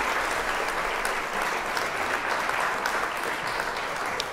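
Steady applause from a crowd, dense and continuous throughout, cheering a showing of the game Starfield.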